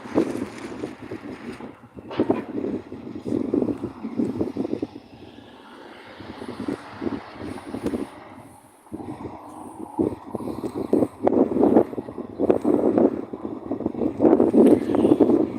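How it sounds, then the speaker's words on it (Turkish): Strong wind buffets the microphone, producing loud rumbling gusts that rise and fall throughout, with no voices. "Rüzgar fazla arkadaşlar."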